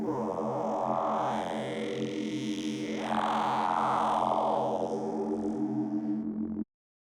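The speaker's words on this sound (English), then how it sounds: "I'm particularly fond of the wavetable position right at the very end and going backwards because it sounds like it says, why? Or even better, wow." A Serum 2 vocal bass built on a vowel wavetable, its position sweeping back and forth, gives a distorted, talking, vowel-like growl that morphs continuously for several seconds, loud and alone.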